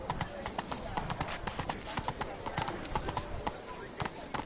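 Rapid rhythmic clip-clop of a horse's hooves galloping in Witcher 3, steady and close, with faint speech underneath.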